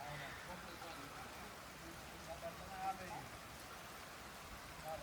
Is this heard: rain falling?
yes